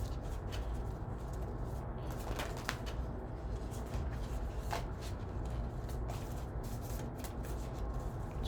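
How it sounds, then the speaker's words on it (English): Soft, continuous riffling and rustling of tarot cards being shuffled, with occasional light snaps, quiet and close in a calm room. "I'm going to shuffle 3 times"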